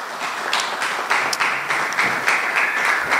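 Audience applause in a lecture hall after a rabbi's talk, a steady dense wash of clapping that holds at an even level throughout with no voices over it.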